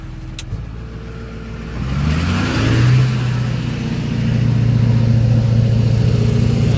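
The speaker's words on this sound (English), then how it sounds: "Let's throw on the high idle, the highest high idle here." A Duramax LB7/LBZ diesel pickup engine idles close by, then climbs smoothly to a sustained high idle with a loud, even drone that holds steady to the end.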